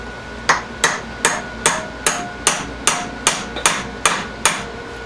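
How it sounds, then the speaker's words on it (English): Eleven sharp metallic hammer blows on a punch during a hydraulic pump rebuild, evenly spaced and close, each ringing briefly before the next. "back to the old, you know, punch and a hammer"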